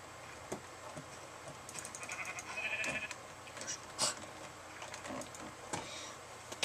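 Sheep bleating in the Minecraft video game, a few short bleats scattered over a faint background of clicks and small game sounds, with no talking.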